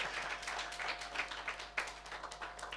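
Faint applause from a crowd, a quick patter of many hands clapping, heard at a distance.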